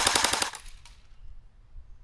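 A CYMA CM028C airsoft rifle firing full auto: a rapid, even burst of about half a second of sharp mechanical cracks, close and loud, then quiet room tone.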